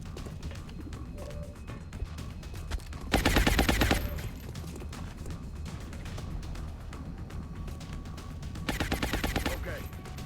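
Bursts of automatic gunfire from the turn-based strategy game XCOM Long War, two loud rapid fusillades a few seconds apart over low background sound.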